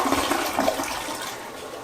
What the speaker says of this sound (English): I gave it a number of test flushes to ensure no water was escaping.